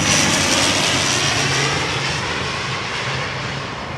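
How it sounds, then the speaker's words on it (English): A Loganair propeller airliner at Heathrow airport, its steady loud engine drone and broadband roar filling the scene evenly, fading only slightly over a few seconds with no talking. "It's a Logan Air prop, but I don't actually know what aircraft that is."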